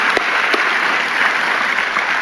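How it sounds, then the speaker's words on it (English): A church congregation claps during a service, a loud, dense, continuous round of applause from many hands with a few sharper individual claps near the start, and no voices over it. "thanks for clapping"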